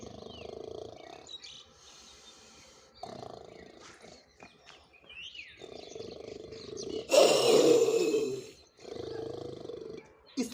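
A voices a lion with low growling breaths and snarls, swelling into one loud, sustained roar near the end before dropping back to rumbles; all the sounds are human imitation.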